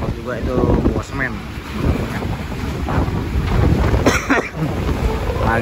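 Strong storm wind roars across a harbour where a truck and a cement boat are caught in heavy weather, a loud, constant buffeting rush on the microphone with voices calling out beneath it.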